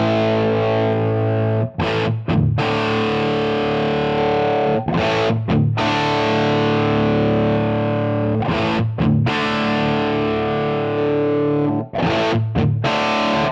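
Electric guitar with heavy distortion played through a Line 6 Pod Go modelled speaker cabinet with an angled microphone, sustained loud chords broken by a few short stops, no talking.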